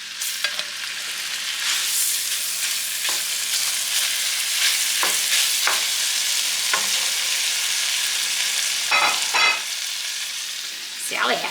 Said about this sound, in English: I'm going to sear this butter, get the temperature going up on it